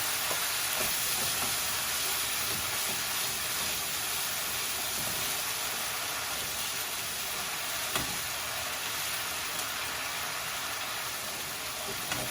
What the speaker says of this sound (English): putting in a ladle's worth of stock at a time and just letting it cook out